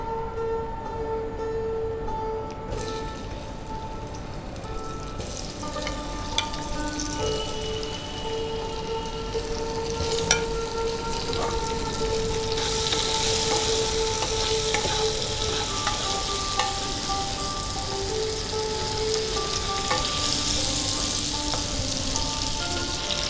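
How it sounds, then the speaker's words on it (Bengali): Potato pieces coated in salt and turmeric frying in a pan, giving a dense continuous sizzle that swells louder partway through, with faint occasional clinks and no talking. "আলুগুলো একটু ভেজে নেব"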